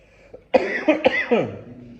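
A single close, harsh cough burst with a couple of rough follow-up hacks, then quiet.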